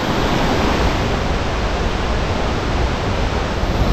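Loud, steady roar of a waterfall in Goa, India, a dense continuous rush of falling water with no breaks, close and filling the whole scene.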